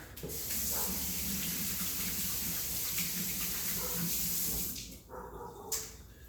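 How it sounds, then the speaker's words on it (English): Tap water runs steadily into a kitchen sink as hands are rinsed while making carnitas, a close continuous splashing rush that cuts off near the end with a brief clatter. "Rinse out the hands"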